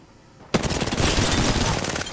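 Sustained burst of automatic gunfire in Apex Legends, loud and close, erupting suddenly after a quiet moment and rattling on rapidly for well over a second, with no talk over it.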